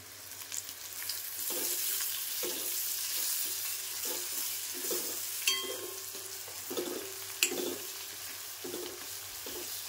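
Coriander and Malvani masala sizzle steadily in a hot oil tempering while a spatula scrapes and stirs the pan in a regular rhythm, close up and with no voices.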